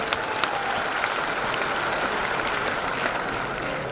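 Audience applause at an Amway diamond success celebration, dense and sustained clapping from a large crowd, loud and steady throughout with no voices over it.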